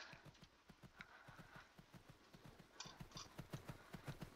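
Horse hooves clip-clop at a steady walking rhythm in the video game Horse Isle 3, a string of close, regular thuds with brief whinny-like tones above them, fairly quiet overall.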